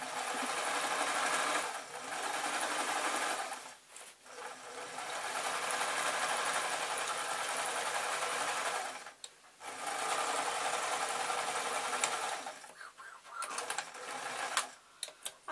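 A sewing machine hems the bottom of an off-the-shoulder dress in turquoise thread, running in several steady bursts separated by short pauses, with quiet clicks and handling noises near the end.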